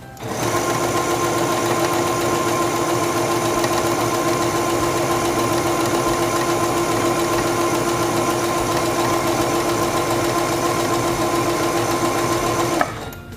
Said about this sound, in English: Let's stitch that out at the default settings